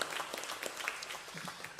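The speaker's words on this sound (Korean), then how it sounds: "주석해 주신 우리 주님께 감사와 찬송과 영광의 박수 올려드립니다" A church congregation at Sunday worship claps together in a brief burst of applause, many hands patting in a dense, even patter.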